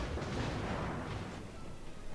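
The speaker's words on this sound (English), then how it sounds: "That's a tier 9 battleship shooting at me." Heavy naval guns of a tier 9 battleship firing in World of Warships, a dense, continuous rumbling barrage of booms with no clear gaps, loud and sustained throughout.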